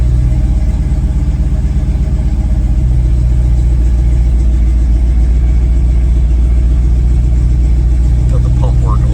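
A 1st gen Camaro engine holds a steady idle near 1,000 RPM, a loud, close, even rumble with the power steering pump working under load, continuous throughout with no pauses.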